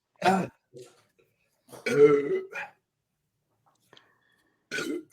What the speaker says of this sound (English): And I did burp after the first one too.